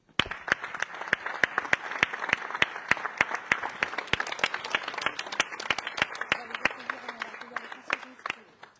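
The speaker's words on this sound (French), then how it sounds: "Je pense qu'on peut vous applaudir." Audience applause at a mayor's New Year address, sharp individual claps ringing out over a thinner bed of clapping, with a faint voice murmuring beneath near the end.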